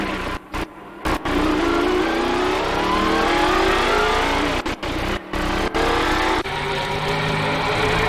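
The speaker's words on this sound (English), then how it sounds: "I want you to ride with me in a Ford Trans Am race car to get the feel of what we'll be doing here" A Ford Trans Am race car revs and accelerates hard, the engine note climbing through gears with short gaps at shifts, loud and close throughout as if heard from the cockpit, with no talk.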